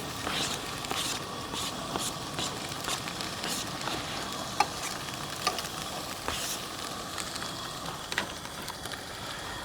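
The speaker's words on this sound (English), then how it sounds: "butter in the pan. We're going to add the onions." Onions frying in butter in a pan at a campsite, a soft steady crackling sizzle with a few sharper pops, fairly quiet and even throughout.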